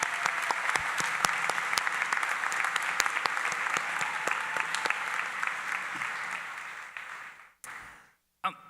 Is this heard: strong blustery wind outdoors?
no